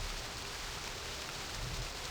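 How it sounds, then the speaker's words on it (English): Rain falls steadily in the Stoneship age of realMYST, a faint, even hiss of rainfall with no voices. "Talking about every time Atris visits the age, it rains"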